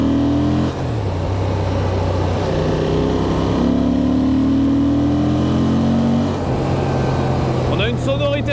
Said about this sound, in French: On a une sonorité moteur qui est assez agréable.